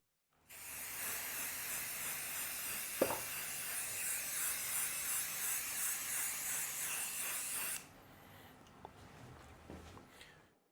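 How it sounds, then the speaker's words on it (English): Regular hairspray is sprayed onto a pencil drawing in one long, steady hissing burst lasting several seconds, close and fairly loud, followed by quieter faint handling noises. "Now we'll take some hairspray. Just regular hairspray to fix the drawing."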